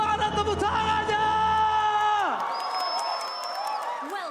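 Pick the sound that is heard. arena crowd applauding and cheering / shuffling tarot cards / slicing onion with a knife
arena crowd applauding and cheering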